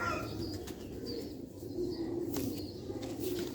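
Sialkoti pigeons in a rooftop loft coo softly and flap their wings in short bursts, with faint chirps over a steady background.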